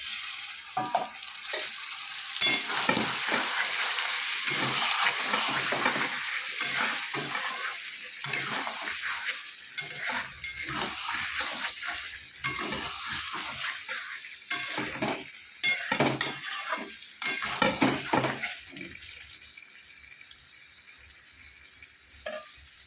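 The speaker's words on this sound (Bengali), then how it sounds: "এবার ভেজে রাখা আলুটা আমি দিয়ে দেবো এঁচোড়ের মধ্যে।" Fried potatoes are stirred into jackfruit and prawns in a pan, giving a soft sizzle under busy, repeated spatula scrapes and clinks against the metal that ease off and grow quieter near the end.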